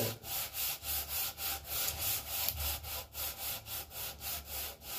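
Sandpaper, 220 grit, worked by hand over a part from a Kawasaki FH721D engine on a John Deere ZTrak 757 mower, rasping in steady back-and-forth strokes about two per second, close and alone.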